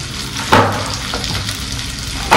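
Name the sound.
green chillies and onion frying in sesame oil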